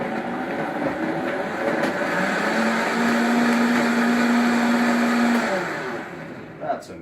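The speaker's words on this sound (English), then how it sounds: "I grab my lid and I'm just going to blend it up for about 5 or 10 seconds" A blender whirs through a batch of keto cold brew coffee, a steady loud motor drone with a rising whine that holds for several seconds before spinning down, no talk over it.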